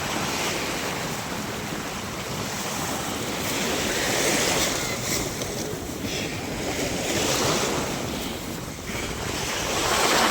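Sea waves break continuously on a beach in Saudi Arabia, a loud, steady wash of surf with gusting wind buffeting the microphone.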